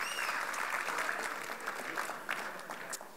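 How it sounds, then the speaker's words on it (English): Gala audience at a Chinese chamber of commerce event applauding a guest from LA, a broad, full round of clapping from many people that stays loud throughout and tapers slightly at the end. "Let's give her a big round of applause."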